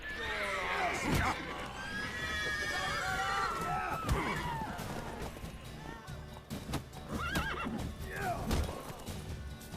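A horse in The Witcher 3 video game whinnies and neighs several times over about ten seconds, mixed with hoof clip-clops, thuds and brief scream-like cries, with some speech in the background.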